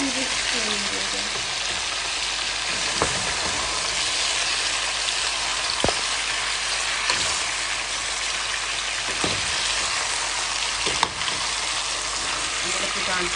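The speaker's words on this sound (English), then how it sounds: "So you continue to stir it until it fry up some more." Jamaican curry chicken fries in a hot pot over a flame, giving a loud, steady crackling sizzle with occasional knocks from stirring.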